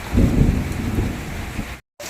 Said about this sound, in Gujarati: વરસાદ પણ ફૂલ ચાલુ થઈ ગયો છે